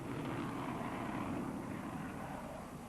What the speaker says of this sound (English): This was the moment that British pilots and British planes took off to play their part in the Allied